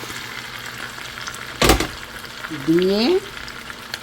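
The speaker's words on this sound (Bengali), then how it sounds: "এখন আমি জলপাইগুলো ঢেলে দিব।" Olives are poured into hot oil for a mango and jalpai olive pickle, giving a sudden loud sizzle that settles into steady frying, with a brief voice over the crackle.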